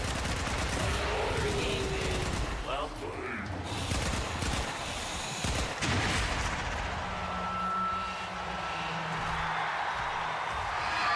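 Video game shotgun and gunfire sounds, a burst of loud blasts and mechanical clatter early on, then a steadier rumbling mix, with some faint talk in the background.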